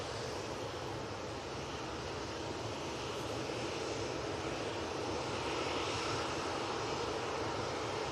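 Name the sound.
aircraft at Manchester Airport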